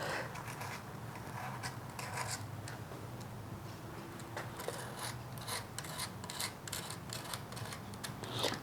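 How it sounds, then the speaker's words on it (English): A blade scrapes excess filler off a cracked fired ceramic sculpture, a quiet, close rasp of short repeated strokes that grow brisker and denser toward the end. "So now I'm just scraping the excess off."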